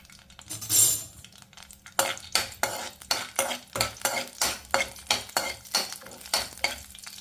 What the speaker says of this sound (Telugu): మనం జీడిపప్పును ఫ్రై చేసుకుందాం